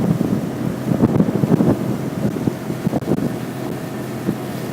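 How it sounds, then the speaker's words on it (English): A Quintrex Explorer Trophy 420 powered by a Yamaha F40HP four-stroke outboard runs at about 5,000 revs, its low engine drone mixed with gusting wind buffeting the microphone and water slapping the hull, with no voices. "A very, very economical hull, these 40 horsepower Yamahas."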